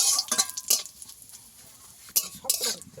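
Neem leaves being fried in a pan make a low, quiet sizzle under bursts of spatula scraping and metal clatter against the pan, the bursts coming in short clusters at the start and near the end.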